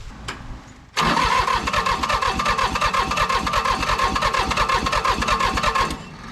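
Old commercial diesel mower engine, left sitting in a field for 20 years, cranking hard after a click: a loud, steady rhythmic churning of the starter for about five seconds without catching, then stopping.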